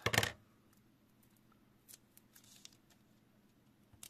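Scissors make one sharp, close snip through a piece of paper for a handmade card, followed by faint paper rustles in a quiet room.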